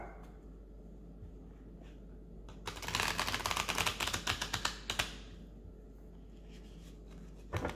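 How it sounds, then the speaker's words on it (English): An oracle card deck is shuffled close by in a quick riffling burst of papery slaps and flutters lasting a couple of seconds, set against a quiet room. "oracle deck. So first I'm going to shuffle it a little bit"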